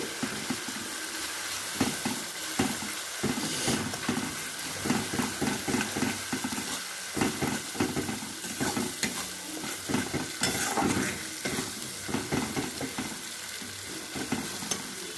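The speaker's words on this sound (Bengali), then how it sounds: "দিয়ে এখন একটু মশলাটাকে কষিয়ে নিচ্ছি" A spice paste of ground cashew, melon seed, poppy seed and green chili sautés in a pan, giving a soft continuous sizzle under repeated scraping and stirring strokes, close and fairly quiet throughout.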